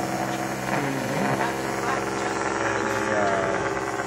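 Small hobby robot motors of a Sea Hawk rig run forward together, giving a steady whining, buzzing drone with harmonic hum throughout, fairly loud and close, holding even for the whole stretch.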